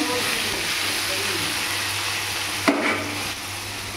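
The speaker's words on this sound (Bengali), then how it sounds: "আলুটা ভাজা হচ্ছে" Potatoes seasoned with turmeric and a little salt fry in a pan, giving a steady close sizzle throughout with a brief clatter near the end.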